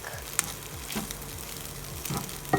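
Leftover rice cooked with coconut milk is stir-fried in a pan, giving a soft, steady sizzle. A few light scrapes and taps of the spoon sound nearby, with no talking.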